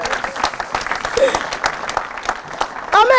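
A church congregation applauding, with dense clapping running throughout beneath an excited voice and shouts, the applause swelling near the end.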